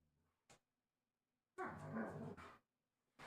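A quiet, close low growl from a dog, one rumbling stretch after a brief click, with near silence around it.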